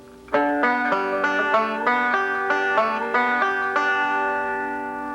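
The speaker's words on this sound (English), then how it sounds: "So what we can do here is an alternating thumb roll where we do that slide twice." A bluegrass banjo plays a beginner's alternating thumb roll, its slide figure heard twice: a steady run of bright picked notes for about five seconds, ringing out at the end with no talking.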